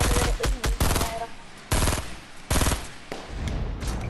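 Rapid automatic gunfire in a video game, several loud bursts of rattling shots separated by short pauses, with brief speech-like sounds mixed in.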